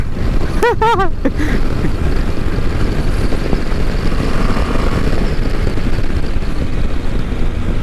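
A 2020 KTM 390 Adventure single-cylinder motorcycle engine runs with a steady, loud rumble close by, continuous throughout, with a short whistle-like tone near the start.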